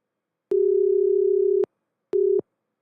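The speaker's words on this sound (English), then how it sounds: "my phone's doing a weird thing where it does an international ring" A phone giving an odd international-style ring tone: one long steady electronic beep followed by a short one, clean and loud with silence around them.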